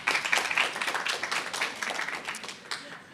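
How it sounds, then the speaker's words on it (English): A small audience claps at a panel event in New York during the UN General Assembly on ending lead exposure, producing a steady patter of moderate, scattered handclaps that thins out toward the end. "Please a round of applause for them."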